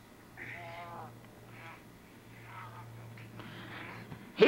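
Duck quacking in a wrestling video game, several short nasal quacks in a row over a steady low hum, fairly faint, with a sharp louder burst at the end.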